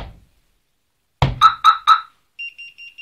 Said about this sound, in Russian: При слабом ударе по кузову автомобиля сигнализация пикает